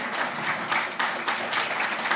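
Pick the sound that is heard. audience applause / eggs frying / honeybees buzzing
audience applause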